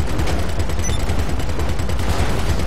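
Rapid sustained automatic fire from a large gun in a shooter video game, loud dense bursts of shots running continuously without pause.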